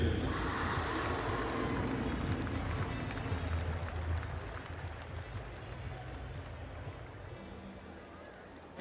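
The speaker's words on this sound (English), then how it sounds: "how about a big round of applause for your 2016 Penn State cheerleaders" A stadium crowd at a Penn State football game against Iowa applauds the 2016 Penn State cheerleaders, a broad, sustained roar of clapping and cheering that slowly fades.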